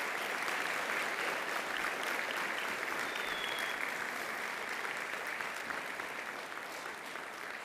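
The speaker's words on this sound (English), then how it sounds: "Please give them a round of applause." Sustained applause from a graduation ceremony audience fills the hall, a dense, even wash of many hands clapping at steady loudness throughout, fading slightly near the end.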